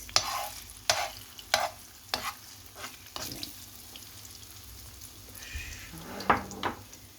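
Eggplant frying in a pan with egg added on top: a low sizzle under a series of sharp, distinct spatula clacks and scrapes against the pan, spaced about a second apart, close by and without speech.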